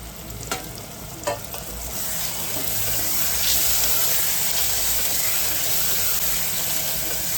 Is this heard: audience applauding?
no